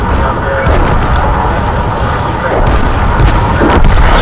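Dense, rumbling tank game combat noise with repeated heavy tank cannon booms, loud and continuous, with faint talk mixed in.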